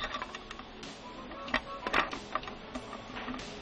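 A fruit bowl built from cake pans being screwed together by hand, giving quiet, irregular metallic clicks and taps as a nut is tightened onto a threaded rod, with no voices.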